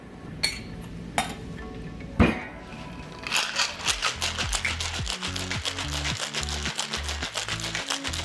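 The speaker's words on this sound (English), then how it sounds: "Alright, time to shake it." A cocktail shaker packed with ice is shaken hard after a few sharp clinks of ice dropping in, settling into a fast, loud, steady rattle that runs on without talk.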